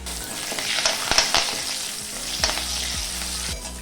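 Urad dal, chana dal, dried chillies, curry leaves and garlic sizzle and crackle steadily in hot oil while being stirred, with close scraping and popping and no talking.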